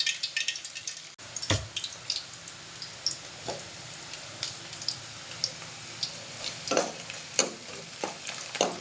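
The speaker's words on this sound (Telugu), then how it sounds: "ఉల్లిపాయ కొంచెం వేగంగా ఉంచాలండి వేగంగా ఉంచితే బాగుంటుంది" Onions fry in a pan with a soft, continuous sizzle, punctuated by intermittent scraping and tapping as a utensil stirs them, close and fairly quiet without speech.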